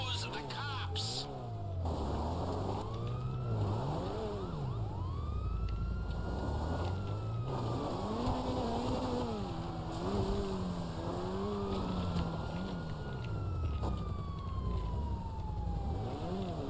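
Police sirens in GTA Online wail and yelp continuously, rising and falling in pitch over engine and traffic noise during a getaway, with voices talking over them.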